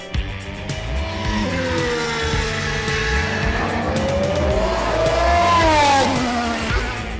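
Formula One car with a 1.6-litre turbocharged V6 hybrid engine, its high engine whine rising and falling through gear changes, loud and close throughout, with a tyre squeal near the end.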